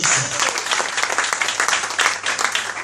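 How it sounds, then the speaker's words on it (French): Dense, sustained applause from a large audience, loud and steady throughout with no pause. "je veux voir comment vous allez cette fois-ci applaudir. Applaudissez."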